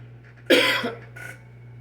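A single sharp cough close up, followed by a softer second cough, against a low steady hum.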